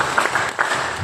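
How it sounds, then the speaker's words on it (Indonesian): Brief burst of audience applause at a corporate leadership training event, a dense wash of many hands clapping together, loud and close, with a few surges in intensity. "Nah, tepuk tangan kedua."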